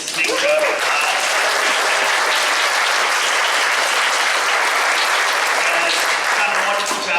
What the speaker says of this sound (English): Let's give Mrs. Mink a round of applause